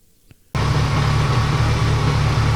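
A Grinnall Scorpion car engine starts up abruptly and keeps running loudly and steadily with its newly fitted cooling fan whirring, a close, dense mechanical drone with low rumble, no talking.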